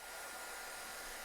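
A Bosite DL plastic welder keeps its blower running after the heater is switched off, giving a steady, close, even airy whoosh like a hair dryer with no variation or talk.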